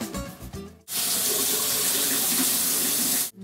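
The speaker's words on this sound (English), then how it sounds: "I'm going to rinse off this plumat." Tap water runs steadily from a faucet while a pluot is rinsed under it, a loud continuous stream that starts abruptly after a moment of clatter and stops sharply at the end.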